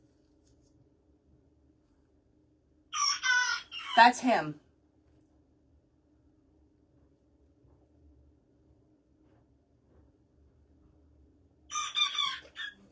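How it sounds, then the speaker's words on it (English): A rooster crows twice, a full cock-a-doodle-doo near the start and a shorter crow near the end, fairly close and loud against a quiet backdrop with a faint steady hum, with brief speech between them. "She just cock-a-doodle-dooed."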